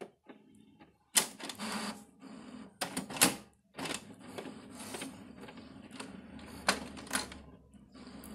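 An HP DeskJet Ink Advantage 2136 inkjet printer starts up, giving off mechanical whirs, clunks and carriage rattles in uneven bursts. The close, moderate sounds run on with short gaps between them.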